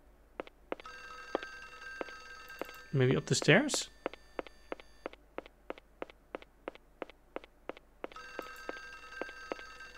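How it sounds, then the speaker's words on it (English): A telephone rings in the Windows 95 horror game Clock Tower, with repeated ringing bursts at the start and end. Regular footsteps tap between them, and a voice talks briefly in the middle. "But the telephone is ringing?"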